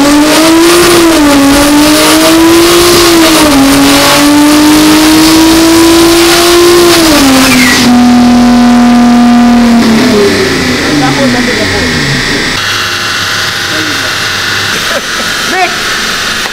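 A tuned Toyota Mark X engine revs hard and loud on a dyno, its pitch climbing and wavering under load, then dropping and settling into a lower idle.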